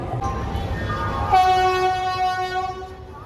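A train at a station as passengers board the S1 coach, with a loud horn blast sounding midway and holding steady before cutting off, over a background of rumbling platform noise.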